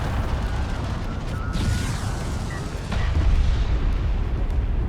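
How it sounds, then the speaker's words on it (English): Direct fire barrage in the real-time strategy game Homeworld: Deserts of Kharak, a dense rumble of repeated cannon blasts and impacts that swells louder partway through. "the direct fire barrage too is going to be brutal"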